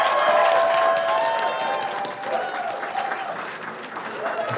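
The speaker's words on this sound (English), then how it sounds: "How about another round of applause for our graduates?" A crowd at a fall hooding and pinning ceremony applauds its graduates, clapping loud at first and then thinning and fading, with a few cheers and murmurs mixed in.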